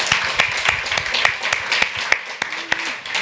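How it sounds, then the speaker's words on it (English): Applause from a livestream audience after a tech product presentation, with a steady wash of clapping and a few louder individual claps standing out over about three seconds. "Let's give them a round of applause."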